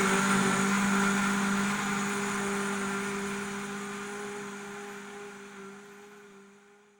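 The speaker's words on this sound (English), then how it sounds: "you put it on your blender" A blender whirs steadily while mixing a one-litre protein shake, a loud even motor drone with a strong hum that slowly fades toward the end.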